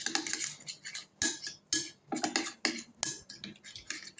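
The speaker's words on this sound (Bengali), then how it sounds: "এবার ভালো করে মিক্স করে নেবো" A spoon clinks and scrapes against a bowl while lemon is stirred into tangy, spicy-sweet fuchka water, giving a quick, irregular run of close, bright metallic taps.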